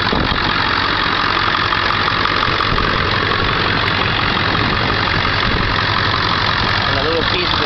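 A 2000 Ford F350 XLT with a 7.3 liter Powerstroke turbo diesel V8 idles nearby, a loud, steady rumble with a rough clattering texture that runs unbroken throughout.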